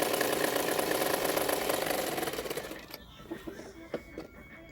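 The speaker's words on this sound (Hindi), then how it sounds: "उसके ऊपर किनारे किनारे पे मैंने और एक सिलाई डाल रही हूँ" A domestic sewing machine runs steadily as it stitches along the edge of a frock's fabric, a fast mechanical whir that fades out after about three seconds, leaving faint clicks and handling noises.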